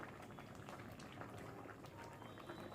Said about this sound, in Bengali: দেখো খুব সুন্দরভাবে ফুটে উঠছে